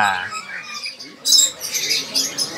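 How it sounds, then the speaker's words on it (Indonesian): Sun conure parrots at a bird dealer's squawk in loud, shrill bursts, with a sharp burst of squawking midway and more chatter after, plus a brief low voice at the start. "Di sebelahnya ada burung sankonur nah"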